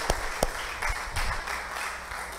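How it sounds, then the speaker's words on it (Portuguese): Congregation applauding at a church service, a few sharp scattered claps standing out from a soft, steady patter of clapping across the room, fairly faint and without voices. "eu até complementaria ele aplaudindo o Senhor Jesus por isso, queridos."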